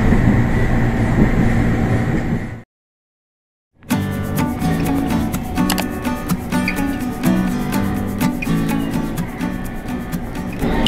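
A KRL commuter train runs on the long Rangkasbitung to Cikarang line, steady rolling rail noise with rhythmic clicks, broken by about a second of silence before the rumble resumes.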